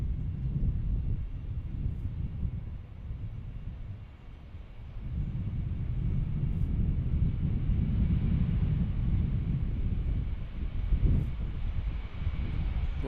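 A loaded airliner bound for Atlanta takes its long takeoff roll down the runway at Gerald R. Ford International Airport in Grand Rapids, a steady broadband engine roar that swells and holds, heard from a distance with no talk.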